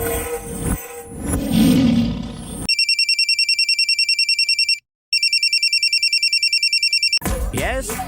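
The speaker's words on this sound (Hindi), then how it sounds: "रिंग जा रही है।" A telephone rings with a steady electronic trill that repeats in rapid pulses, breaks briefly, then resumes, loud and alone, with voices and noise before and after it.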